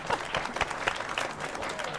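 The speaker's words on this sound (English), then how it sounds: "Now you can clap." Audience applause at a film festival awards show, a steady wash of clapping over two seconds with a few sharper individual claps, fairly close, with some voices mixed in.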